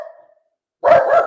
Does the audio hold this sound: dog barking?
yes